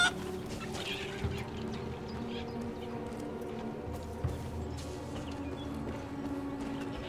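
Chickens killed in Far Cry New Dawn cluck and squawk faintly in short bursts over a low game background hum, with a couple of sharp impacts.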